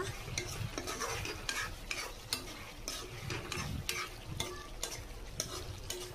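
Pork sizzles in a pan outdoors while being stirred, with steady frying crackle and repeated scraping strokes of a utensil, close and moderately loud.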